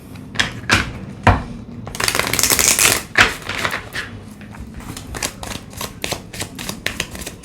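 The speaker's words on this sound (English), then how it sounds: "Let's give it a good shuffle" Tarot cards are shuffled by hand in a dense run of quick, crisp riffling bursts, with one longer, louder flurry in the middle, heard up close with no talking over it.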